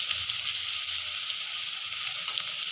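Steady, crackling sizzle of onions frying in a pan, continuous and fairly close with no talking.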